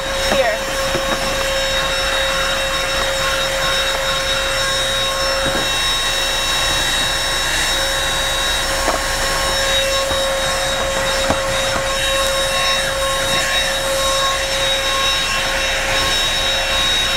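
A ThisWorx corded car vacuum runs continuously inside a car while picking up glitter, giving a steady close whine with a high motor tone and faint bumps of the nozzle, loud and unbroken, with no talking.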